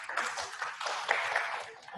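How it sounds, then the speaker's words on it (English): Faint, continuous applause from an event audience forms a soft, dense patter that swells slightly midway and fades toward the end. "A round of applause."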